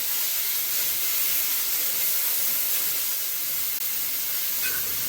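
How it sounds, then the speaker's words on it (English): Beef searing in a single layer in a smoking-hot wok for a beef and noodle stir-fry, giving a loud, steady sizzle and hiss that carries on unbroken with no talk. "we're searing the bottom so it gets a good caramelization"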